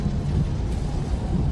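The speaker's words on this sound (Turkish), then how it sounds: "Şimdiden şimşekler başladı, baksanıza" Rumbling thunder from a storm over the Pacific rolls in a dense, continuous low wash, loud and unbroken, with a rain-like hiss over it and no voices.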